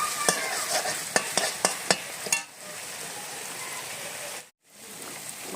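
Spice masala for khichdi fries in a pan with a steady sizzle while a spoon stirs it, scraping and tapping several times in quick succession before the sizzling continues alone, briefly cutting out near the end.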